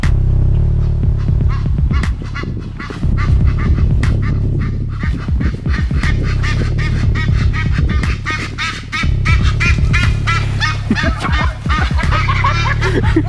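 Ducks quack loudly and nearly continuously close by, a dense chorus of overlapping honking calls in bursts with brief lulls, set against a steady low background rumble.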